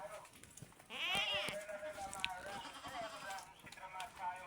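Goats bleat at close range, a long wavering cry followed by shorter calls, with a person's voice heard faintly at times.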